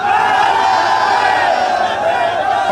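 A rally crowd in Sialkot roars a religious slogan in unison, a loud, sustained massed shout of many voices that holds steady throughout.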